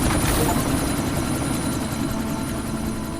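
A helicopter in the video game Deus Ex: Mankind Divided thrums loudly and continuously with a heavy rotor drone, close and steady throughout.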